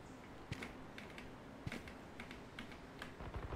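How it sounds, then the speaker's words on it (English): Keys clatter on a Zowie Celeritas 2 keyboard during a Valorant match, scattered quick clicks and taps, faint and close, over a low background hum. "My keyboard is the Zowie Celeritas 2."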